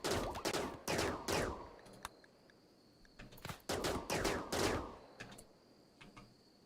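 Colonists trade gunfire in RimWorld, with two bursts of rapid overlapping shots, each lasting about two seconds, separated by quieter single pops and faint ticking.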